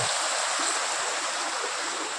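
Spring water rushes in a steady, bright broadband flow, close and continuous, like a small stream running over rocks with no voices.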